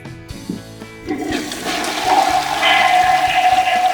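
A toilet flushes after its cistern, clogged with limescale, is cleaned with descaler, a few clicks of the handle, then a loud rushing surge of water swirling steadily to the end, close by.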